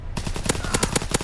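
Rapid automatic gunfire from a Sten submachine gun in Call of Duty WW2 multiplayer on a wintry Carentan map, a tight burst of about eight loud close shots in quick succession.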